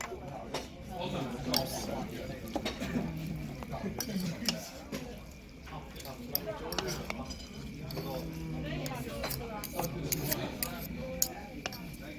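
Chopsticks clink and scrape against a bowl while Dan Dan noodles with spicy pork and bok choy are mixed, soft irregular clatter under almost continuous nearby talking.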